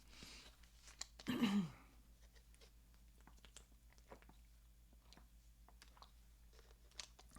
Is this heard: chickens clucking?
no